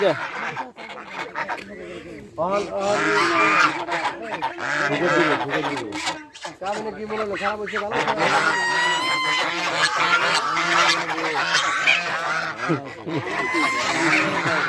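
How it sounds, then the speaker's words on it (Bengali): Village ducks on a rural dirt path quack and honk repeatedly and loudly at close range, a busy overlapping chorus lasting throughout, with people talking faintly in the background. "হাঁসগুলো কিনতে চাইতেছি যদি ওনারা বিক্রি করে তাহলে হয়তো নিব"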